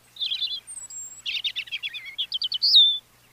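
A European robin sings alone at close range, a bright high-pitched phrase of rapid twittering notes and trills running for about three seconds, with a short gap after its opening burst.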